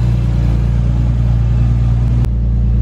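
Widebody Toyota Supra engine idling loudly and steadily up close with a deep rumble, a brief blip of revving near the end, no voices.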